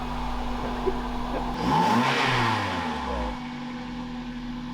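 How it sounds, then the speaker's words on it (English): A running Toyota Celica engine revs up once, rising and falling in pitch over a couple of seconds, then settles back to a steady idle. "Let's have a little listen to the beast of the big fast engine that Andy hoped for."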